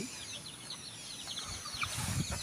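Young chicks, about a month old, peep and chirp in quick, high, thin calls over a steady rustling background, fairly close and continuous.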